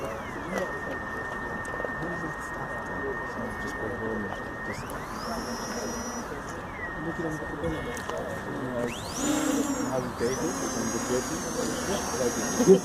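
An Asctec Falcon 8 drone hovers with two of its propellers stopped, giving a steady mid-level whine that holds one pitch, rises briefly, settles, then climbs higher again, with a person talking over it.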